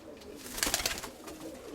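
A flying pigeon gives a short, faint coo and a few soft rustling sounds close by, a brief burst in the middle of a quiet recording.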